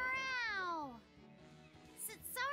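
A voice in the video game Tales of Berseria imitates a cat's meow, giving a long, drawn-out falling meow followed after a short pause by a second brief, rising meow, close and clear.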